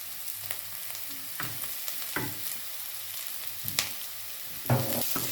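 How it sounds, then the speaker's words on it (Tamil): Cardamom, fennel, mustard seeds and cloves frying in hot oil, a continuous close sizzle broken by several scrapes and knocks as the spices are stirred. "இப்போ இதோட இப்போ நாங்கள் எடுத்து வச்சுக்கிற ஏலக்காய், பெருஞ்சீரகம், கடுகு, கராம்பு எடுத்து நாங்கள் இதே இதில் போட்டு மிக்ஸ் பண்ணுறோம்"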